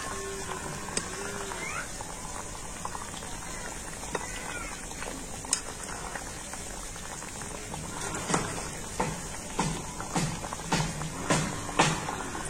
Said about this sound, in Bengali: আর এইভাবে আমি বিস্কুটগুলো খুব সুন্দর লাল লাল করে ভেজে নেব।